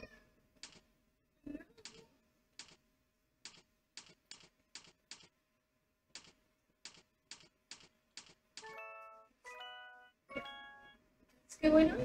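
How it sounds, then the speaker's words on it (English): A house cat meows several times near the end while steady computer keyboard typing clicks run throughout during a typing practice session, with a person's short voice bit early on. "What's going on, kitty?"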